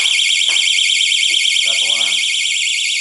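A homemade mouse trap fitted with an electronic alarm sounds off in a loud, continuous warbling buzz that runs unbroken, with brief faint voice sounds and a few bumps underneath.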